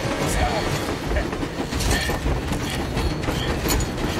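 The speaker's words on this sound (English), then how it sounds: "Better get away from that train." Train rumbling and rattling inside the Metro Exodus game world, a steady dense mechanical roar with clanks and squeals throughout, heard close and loud under scattered game sounds and talk.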